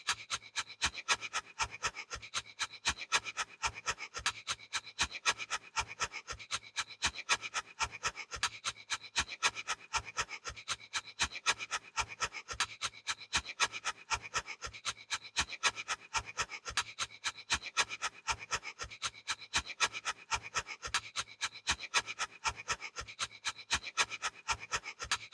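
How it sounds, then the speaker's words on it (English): Rapid, even breath-of-fire breathing, with sharp rhythmic puffs of air repeating steadily and quietly for a long stretch without pause. "the goal is first to get 100 breaths using breath of fire"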